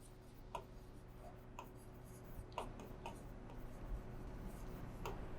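Pen writing on paper during an accounting calculation lesson: soft scratchy strokes with faint ticks at a steady pace, quiet and close, over a low background hum and no talking.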